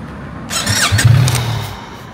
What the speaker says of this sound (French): Je remonte sur la bécane, direction BM.